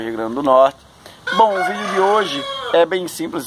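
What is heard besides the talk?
rooster crowing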